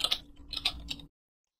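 Quick, light clicks on a computer keyboard as a short nmap command is typed, about half a dozen close keystrokes in a second before it goes silent.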